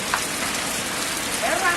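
Heavy rain pours down after a spell of hot weather, a steady, dense hiss of drops striking surfaces nearby, with faint voices in the background.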